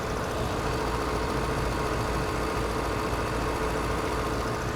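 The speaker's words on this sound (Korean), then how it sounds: "중고차에서 가장 중요한 엔진룸 사운드 제가 들려드리도록 하겠습니다." A used Lexus LS 600h L gasoline engine idles smoothly and steadily at close range in the engine bay, a continuous low hum with no revving and no voices.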